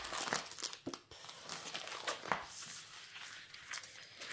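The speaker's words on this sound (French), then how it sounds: "Et bien remettre le film transparent pour l'aplatir." Clear transparent plastic film crinkling and rustling as it is laid back over a diamond painting, a steady crackle with a few sharper crumples, close and alone.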